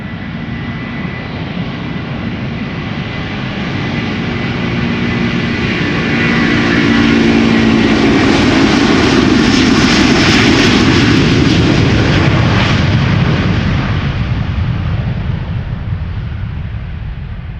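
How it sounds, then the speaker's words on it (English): A Delta Air Lines Airbus A330-300 heavy jet departs Schiphol bound for Seattle, its engine roar swelling from a distant rumble to a loud, broad peak before slowly fading, with no voices. "So this is Delta Airlines Flight 143, outbound Seattle, Washington, A330-300."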